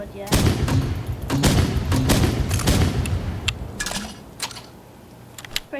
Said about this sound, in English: next up, we're gonna do the grenade launcher